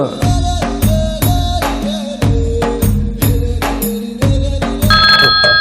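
A telephone rings loudly in repeated electronic bursts, a steady pattern of tones with short gaps, close by and alone.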